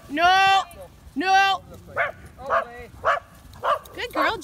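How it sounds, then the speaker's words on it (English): Several dogs bark in a quick burst: two long, loud yowling howls first, then a run of short, evenly spaced barks close by, with no talking over them. "Gemma didn't bark. Everybody else did, but Gemma didn't"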